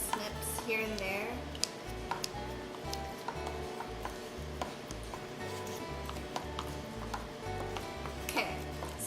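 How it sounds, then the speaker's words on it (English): Lamb meat being poked with a utensil on a board, giving a steady run of regular, evenly spaced knocks and taps up close, with light clinks and a faint sizzle behind. "I'm done poking holes in my meat"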